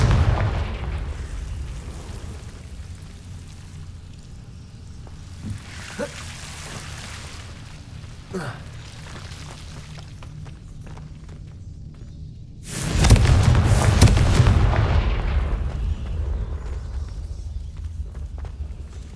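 Confringo blasting spells from Hogwarts Legacy go off as low rumbling booms, with a loud burst of crackling explosion noise near the end that gradually fades.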